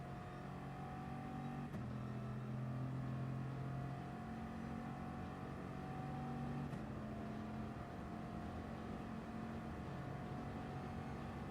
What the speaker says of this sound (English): You can hear the engine of the Bugatti.